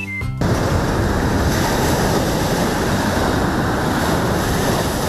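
Waves wash onto a peninsula shoreline under a warm sea breeze, a dense, continuous rushing surf mixed with wind buffeting the microphone, loud and steady after a brief clatter at the start.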